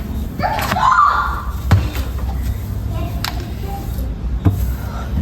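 A few dull, hollow thumps of knocking at a front door come through a busy family home on Christmas Eve, spaced apart over a low background murmur.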